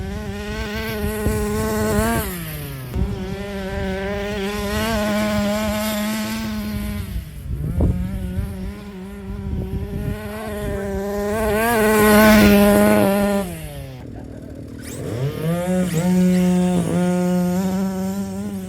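A Rovan 360GT 1/5 scale RC sand buggy gas engine running loud and buzzy throughout, its pitch rising and falling repeatedly as the throttle opens and closes, near then pulling away.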